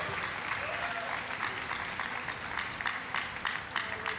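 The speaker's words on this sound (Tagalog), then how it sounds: "isang malakas at buhay na palakpak para sa ating pinakamamahal na Panginoon" Sustained applause from a large church congregation, steady dense clapping at moderate distance without pause.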